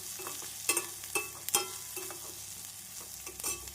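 Onions fry in a pan with curry leaves, soft sizzling broken by several scraping stirs of a spatula, fairly quiet and close, with no talking.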